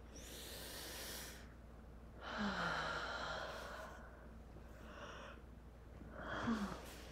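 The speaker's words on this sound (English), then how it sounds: "I got a nice big yawn after that one." A big, drawn-out human yawn with a long breathy exhale and voiced, sighing tones, heard close and alone, followed by softer breathy sighs.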